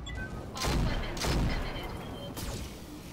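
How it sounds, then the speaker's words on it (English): Weapons fire in a Roguepoint video game battle, a few heavy booming volleys over a constant rumbling background, loud and close, with nobody speaking. "And we'll fire everything."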